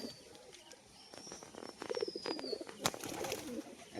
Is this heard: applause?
no